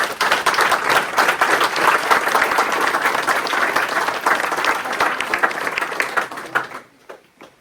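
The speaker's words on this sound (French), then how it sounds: "On peut les applaudir." A crowd at a Sainte-Barbe firefighters' ceremony in Monteneuf applauds promoted firefighters, with sustained, full applause that carries evenly for several seconds before fading out quickly.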